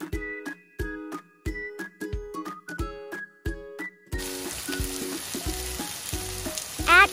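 Potatoes, curry leaves and green chilies hiss and sizzle in a hot pan, starting as rhythmic sputtering bursts and then settling into a steady, dense frying crackle with occasional stirring.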